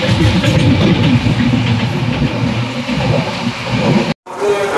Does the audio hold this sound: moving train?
yes